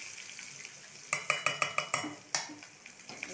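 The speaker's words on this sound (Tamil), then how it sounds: "இப்போ தான் பொரியுது பொரியுது" Ingredients fry in a pan for a homemade greens dish, with a steady sizzle under a short run of bright metallic clinks as a utensil stirs against the pan, about six quick strikes and then one more.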